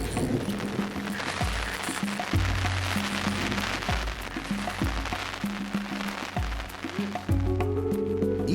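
Steady brief rain shower patters and hisses over a surface while redfish fishing from a boat, continuous and fairly loud, with a low engine-like hum running beneath.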